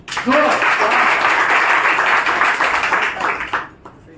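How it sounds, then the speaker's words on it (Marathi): An audience at a sales talk bursts into loud, dense applause that holds steady for about three seconds before tapering off. "मला जोरात टाळी वाजवू"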